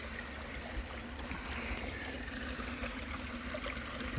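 A small 12-volt pump powered by a battery charger runs water into a slotted bucket set in a tub beside a creek, giving a steady, faint, continuous hum and trickle with no break.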